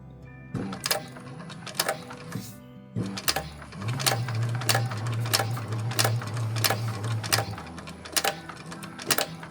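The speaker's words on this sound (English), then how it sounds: "now we're stitching at 1/8 of an inch." A sewing machine stitches a bag made of EVA foam at a one-eighth-inch seam, running in steady bursts of rapid mechanical clatter with a low motor hum and sharp periodic clicks, close up and with no voices.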